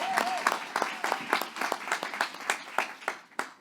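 An audience at a talk on developing Hispanic talent claps to welcome a speaker, with sparse, distinct hand claps in a loose, uneven rhythm and a brief voice at the start, moderately quiet.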